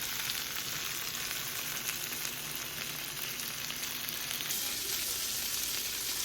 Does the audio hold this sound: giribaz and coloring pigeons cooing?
no